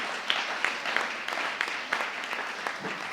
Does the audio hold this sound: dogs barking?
no